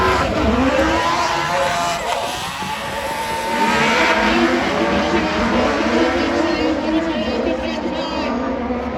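Several race cars starting an autocross heat at Saint Igny de Vers, engines roaring together in a loud sustained blare with shifting pitch; voices are faintly audible underneath.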